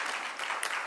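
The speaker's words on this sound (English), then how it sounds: "Can you please give yourself a round of applause?" Graduates at a cell phone repair graduation ceremony in Tshwane clap for themselves, a brief dense patter of many hands filling the room at moderate loudness.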